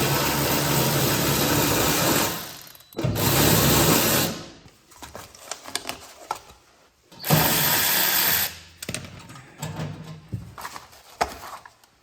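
A power tool whirs in two long bursts while removing under panel bolts on a McLaren MP4-12C, separated by quieter stretches of clinks and handling noises close by.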